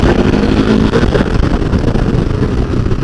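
A KTM RC 390 motorcycle rides along streets, its engine giving a steady, loud, close drone mixed with wind rush for a few seconds, and no one speaks.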